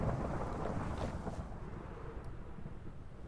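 Thunder rumbles during a lightning storm in the video game Minecraft, a loud low roll that starts strong and slowly fades over a few seconds with steady rain-like noise underneath.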